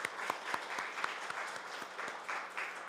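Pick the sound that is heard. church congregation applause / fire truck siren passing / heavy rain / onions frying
church congregation applause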